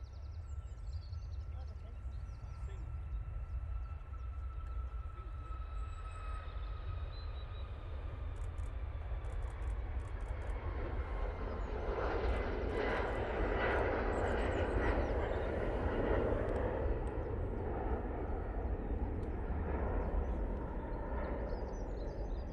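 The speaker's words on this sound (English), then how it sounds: "Right, Ryanair. Going off to Paphos now" A Ryanair jet departs Manchester Airport for Paphos, its engines building from a distant hum into a broad, rising roar that swells and holds near the end.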